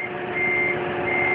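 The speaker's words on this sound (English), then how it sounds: "we have this buzzer whenever we back up." A forklift's reversing warning beeper sounds as a steady, loud electronic tone held throughout, with no talking over it.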